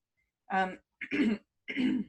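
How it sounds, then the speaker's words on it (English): Three short throat clears in quick succession, close and distinct, separated by brief silences. "Sorry, now I got to clear my throat."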